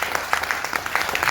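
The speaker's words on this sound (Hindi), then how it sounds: "जोरदार ताली बजा लीजिए" An audience bursts into brief, lively clapping during a sales pitch, a quick patter of many hands that stays steady and fairly loud throughout.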